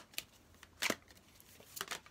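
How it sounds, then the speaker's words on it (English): A tarot deck, the Winter Waite Tarot, being shuffled by hand: a few quick papery riffling bursts, close and fairly soft, with quiet gaps between them. "Now, I'm going to give these a really good shuffle because for the most part they were kind of in order."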